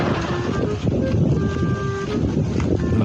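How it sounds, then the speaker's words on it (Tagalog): Strong wind gusts buffet the microphone in a loud, rough roar, with faint tonal whistles poking through. "Lakas ng hangin sa kanila."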